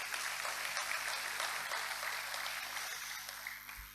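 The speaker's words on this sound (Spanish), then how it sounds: "un aplauso para él" A congregation applauds at a Sunday meeting: a faint, even wash of many hands clapping, sounding distant and steady, with no voices over it, tapering slightly at the end.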